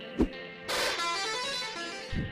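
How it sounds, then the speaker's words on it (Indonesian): A short tap, then a sustained car horn honk lasting about a second and a half, fairly clear, followed by a brief thump. "Membunyikan klakson."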